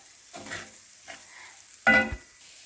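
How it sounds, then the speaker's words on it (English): A runner bean curry frying in a pan with a soft sizzle, stirred in a few short scraping strokes, the loudest one near the end. "And then you give it a good stir."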